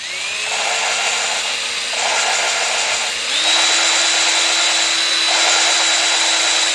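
Rotary power tool grinding old gasket residue off a Volkswagen Beetle cylinder head during a head gasket job, a loud steady whine that rises in pitch partway through and runs without talk.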